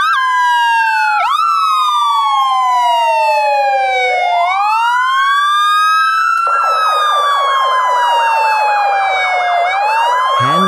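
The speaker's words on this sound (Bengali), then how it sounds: "সকালে তাদের ঘুম ভাঙে পুলিশের গাড়ির আওয়াজে" A cartoon police car siren wails loud and close, sweeping up and down in long rising and falling tones, then switches to a rapid warbling yelp partway through before returning to a slow wail.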